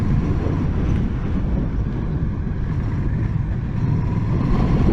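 A Honda CMX1100 Rebel motorcycle engine downshifts in sport mode, giving a steady deep rumble mixed with road and wind noise, heard close and continuous without speech.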